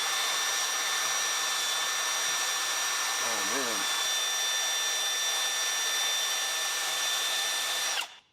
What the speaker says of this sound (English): Run a drill bit through to get all the rust out.